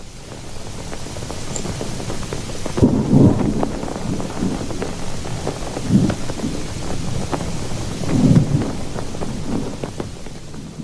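A storm effect carries steady rain and wind with rolling thunder booming several times, loud and close, the rumbles swelling then fading over a constant downpour.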